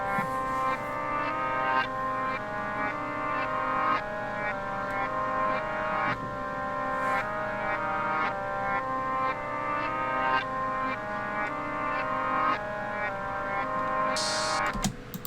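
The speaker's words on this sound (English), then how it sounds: "So I wanted to flip it backwards, of course." Melody sample played backwards in FL Studio, reversed tonal notes swelling up and cutting off in a repeating looped rhythm, steady and moderately loud with no talking.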